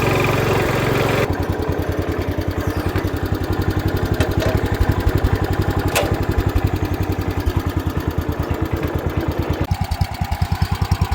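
A 1977 Wheel Horse B-100 lawn tractor idles steadily and loudly close by, its small engine knocking out a fast, even chugging beat with a rough, slightly uneven edge and no one talking over it.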